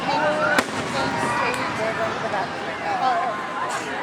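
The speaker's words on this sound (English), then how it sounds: "Then it was time for the fireworks." Fireworks at Lake Geneva heard from a crowd, with sharp distant bangs and crackles over constant chatter and whistling from people nearby.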